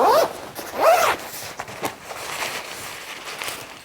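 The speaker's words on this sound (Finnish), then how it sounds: "Vetoketju aukeaa näppärästi" The zipper of a Mosko Moto Ectotherm insulated 12V heated motorcycle jacket is pulled open in two quick, close rasping strokes, followed by softer fabric rustling and handling.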